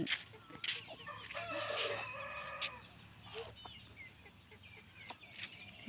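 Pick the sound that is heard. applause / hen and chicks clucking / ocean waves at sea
hen and chicks clucking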